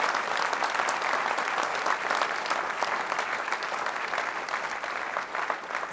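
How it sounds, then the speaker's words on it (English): Sustained, dense applause from an audience at a cultural diversity awards ceremony, steady and full throughout without a break. "Ladies and gentlemen, let's give them a big round of applause."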